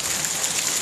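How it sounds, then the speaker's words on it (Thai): Steady rain falls in a garden with vegetable plants during a cool-season shower, a continuous dense hiss of drops with no pauses and no voices over it. "ดูมาดูฝนตกกัน"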